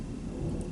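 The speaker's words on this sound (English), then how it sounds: "It's storming and it's pouring down rain right now, and you might hear some thunder." Thunder rumbles through a downpour during a storm, a continuous low roll heard alongside steady heavy rain, fairly quiet and with no voices.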